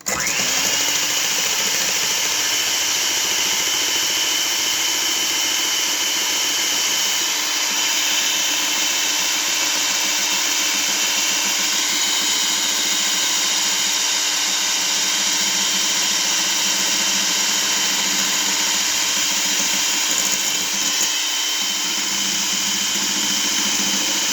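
An electric mixer beats egg whites for a cake, giving a continuous loud, high whirring whine that runs without pause, with no talking.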